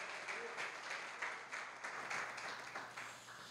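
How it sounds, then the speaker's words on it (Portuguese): A church congregation applauds together during a worship service, a dense, steady wash of many hands clapping with slight surges, heard from within the room. "Aplauda o Senhor por essa peça."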